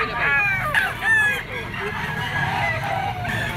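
Roosters crow repeatedly at a bustling gamefowl market, several drawn-out calls overlapping at middle distance amid clucking and crowd noise, with someone talking over them.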